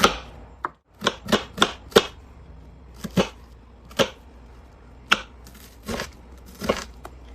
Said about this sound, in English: next I've got 2 red onions. We're going to chop those up